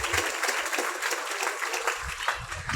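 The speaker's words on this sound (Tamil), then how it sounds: "இந்த பள்ளி நிர்வாகத்திற்கு ஒரு அரங்கம் நிறைந்த கைத்தட்டலை பேரண்ட்ஸ் ஆகிய நீங்க" Audience in a hall applauding the school management at a drug-abuse awareness speech, a sustained wash of clapping from many hands.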